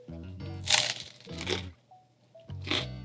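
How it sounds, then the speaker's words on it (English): Bites into crispy-bottomed garlic focaccia bread produce three loud, close crunches with crackly texture, separated by short pauses and chewing, with no talk. "Crispy bottom crunch, delicious."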